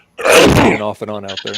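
A sneeze bursts out loud and close at the start, followed by a person talking.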